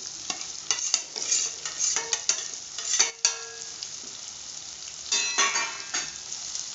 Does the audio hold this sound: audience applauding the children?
no